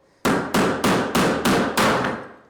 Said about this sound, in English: I'm just going to hammer off the original base.